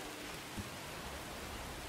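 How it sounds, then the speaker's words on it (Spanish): Steady, dense rain hiss from the Dirt Rally 2.0 rally game with a Ford Escort on a historic stage, a uniform wash of noise with a faint low thump and no voices. "está lloviendo"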